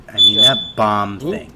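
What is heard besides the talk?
fire alarm chirping in a building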